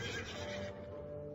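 A horse gives a short, fairly faint whinny lasting barely more than a second, heard on its own with no talk.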